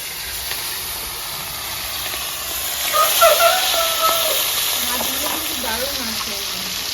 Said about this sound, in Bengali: তো বন্ধুরা এদিকে মাছ ভাজা হচ্ছে